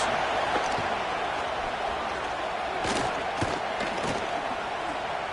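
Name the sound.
stadium crowd noise in College Football 26 video game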